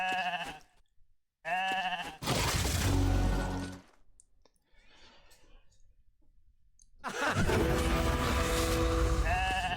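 Sheep bleating from a sheep spell in the video game RAID: Shadow Legends, loud synthetic bleats amid clicks and dense game effects, with a quieter stretch in the middle before the noisy game sounds return.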